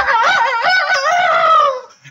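A rooster crows once, loud and close, in a long drawn-out call that trails off at the end.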